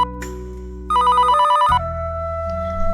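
A telephone rings alone with a clear, loud electronic tone in two bursts, the second higher and brighter, then a steady sustained tone with a low hum underneath, no voices.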